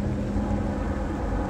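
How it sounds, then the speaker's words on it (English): A deep, continuous rumble of a military cargo aircraft such as a C-130 passes overhead, broad and steady, with some wind buffeting on the microphone outdoors. "That's like a cargo C-130 or AC-130 or something."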